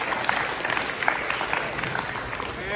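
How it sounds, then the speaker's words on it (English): Audience applause for the Surrey Christian team at a school sports awards event, a steady wash of many hands clapping for a few seconds at moderate level. "So round of applause for Surrey Christian."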